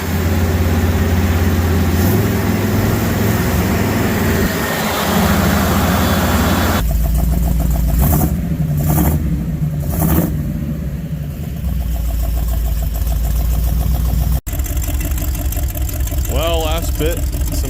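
An AMC 304 V8 runs during its first start and cam break-in, a loud continuous engine drone that shifts pitch partway through as it revs and settles, with a brief dropout near the end and a voice talking over it.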